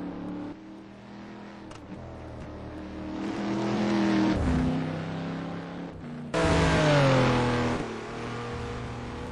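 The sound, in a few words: Porsche race cars battling on the Nordschleife track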